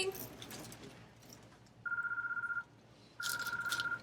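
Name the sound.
telephone ringing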